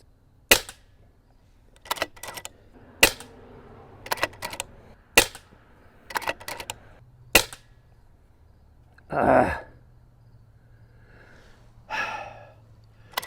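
A Skout Epoch .22 air rifle with a Lothar Walther barrel fires JSB Exact Jumbo Heavy pellets at a target, about ten sharp, close cracks spaced roughly a second apart, followed by a couple of soft breathy sounds.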